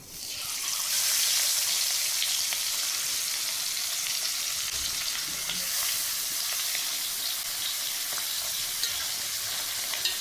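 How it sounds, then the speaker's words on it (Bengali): Fish fries in a pan of hot oil with a dense, even sizzle that holds steady and fairly loud for about ten seconds, with no talking. "5টা মাছই ভাজা হয়ে গেল"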